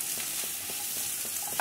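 Capsicum and onion sauté in a pan for mushroom rice, a gentle continuous sizzle broken by light, regular stirring scrapes close up, with no voices present.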